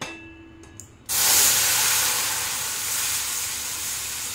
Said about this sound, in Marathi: अर्धा लिटर दूध घालून घ्यायचं आहे।